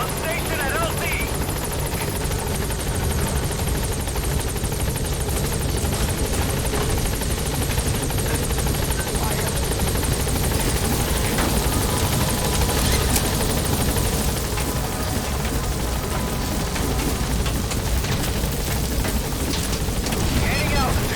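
A helicopter in the Metal Gear Solid V game comes in toward a landing zone, its rotor a loud, steady, throbbing roar that fills the whole stretch while radio-style voices talk over it.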